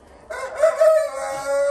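A Brahma rooster crows once, loud and close, a drawn-out strained cock-a-doodle-doo rising then trailing off, alone with no other sounds.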